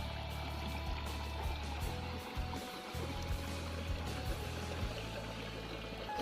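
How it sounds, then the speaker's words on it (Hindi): Canal water in a hill village flows steadily at the head of the channel where it splits in two, a continuous close rushing and gurgling with no talk over it. "यहाँ से हमारे गांव की जो नहर का पानी वो शुरू होता है, ये आगे जाते हुए दो भागों में डिवाइड होता है"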